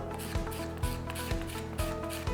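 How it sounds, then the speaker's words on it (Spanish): Wet hand sanding of a table centerpiece, steady rhythmic strokes of sandpaper rasping back and forth about twice per second, close and fairly quiet, with no talk. "yo lo puedo apoyar y comienzo a lijar, preferiblemente con agua."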